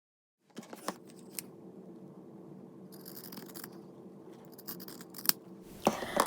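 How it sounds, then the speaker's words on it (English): Scissors snip repeatedly through a fabric seam allowance on a toddler suspender strap, a series of sharp close clicks and slicing cuts over a low steady hum, with a louder cluster of snips near the end. "I'm just going to trim the seam allowance down just to make sure that it's not too bulky"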